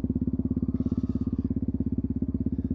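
A motorcycle engine in third gear holds a steady, low, rhythmic putter at constant speed, close and continuous with no change in pace.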